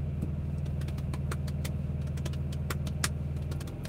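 A car engine idles steadily up close, its low drone constant throughout, with faint clicks and ticks scattered over it and only a slight lift in pitch near the end.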